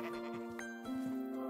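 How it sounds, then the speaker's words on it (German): Sheep in the Minecraft video game let out a sustained, steady bleat with a second bleat following, loud and close with no talk. "hier würde ich, glaube ich, mal so ein paar Schafe abscheren"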